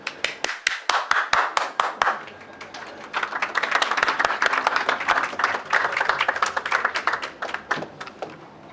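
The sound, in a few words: audience applause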